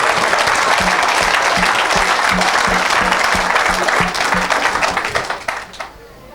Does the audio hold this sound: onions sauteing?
no